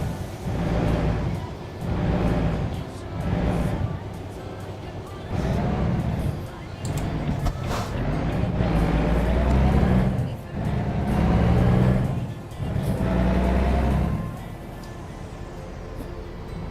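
A truck rolls through town in American Truck Simulator, its engine droning and swelling in repeated surges as it accelerates and eases off, with a steady low hum between.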